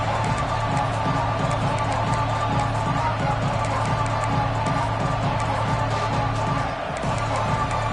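Stadium crowd in a football video game: a steady, loud roar of many voices fills the whole stretch, dense and continuous.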